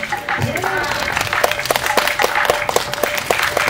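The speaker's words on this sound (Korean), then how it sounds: "배우 손석구 씨와 문병곤 감독님을 박수로 모시겠습니다." Audience applause at a Korean press screening and Q&A for the short film Night Fishing, as actor Son Sukku and the director are welcomed onstage; steady clapping with a few sharper claps, under a faint voice and a sustained tone.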